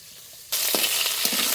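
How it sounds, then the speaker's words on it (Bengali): Fish dropped into hot oil in a pan: quiet at first, then a sudden loud sizzling hiss that holds steady with small crackles, close up. "এই একই তেলে বাকি মাছগুলো ভেজে নেব"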